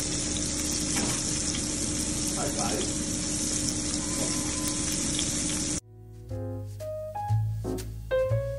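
Flour-dredged fish frying in hot oil hisses and crackles loudly and steadily for several seconds, then cuts abruptly to music.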